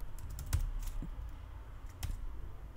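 Code being typed on a computer keyboard in the Arduino Pro IDE, a soft irregular clicking of keys at close range, alone and fairly quiet.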